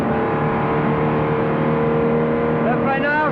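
An Aston Martin DB4 GT engine is held at full throttle onboard at Spa in fourth gear on a descent, a loud, continuous roar with a rising tone near the end, under French commentary.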